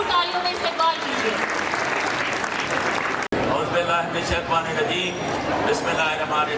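An audience at a University of Karachi Independence Day celebration breaks into loud, steady applause, dense clapping that carries on without pause, with a brief dropout midway before the clapping resumes.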